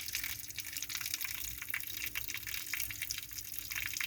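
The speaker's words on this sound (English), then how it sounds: "We're gonna let the water drain out of it." Water gushes and trickles steadily as it drains out of a flooded boat on its trailer, a continuous close splashing flow with no voices.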